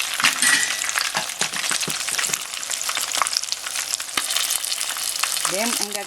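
Shishamo fish deep-frying in hot oil, a loud dense continuous sizzle and crackle throughout, with a few light metallic clinks.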